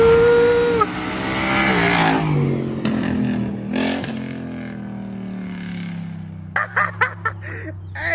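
A Ford Mustang's engine and exhaust rev loudly and up close, with long swelling rev sweeps that rise and fall, followed by a few sharp quick throttle blips at the end.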